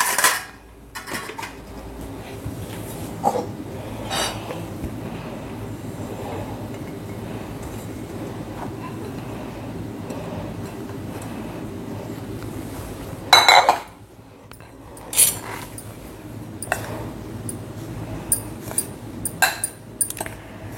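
A spoon clinks and scrapes in a vessel while gram flour and sugar are mixed for laddus, with scattered metallic taps over a low, steady background hum and a louder clatter partway through.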